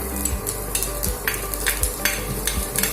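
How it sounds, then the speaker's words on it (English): Chopped onion fries in hot mustard oil, a steady sizzling hiss broken by regular scraping stirs of a spatula against the pan, close and fairly loud, with no voices. "Once the oil gets hot, I'll put the chopped onion"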